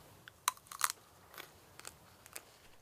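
Raw asparagus spears are bitten and chewed up close in a farm greenhouse, giving a few sharp crisp crunches followed by softer, quieter chewing clicks.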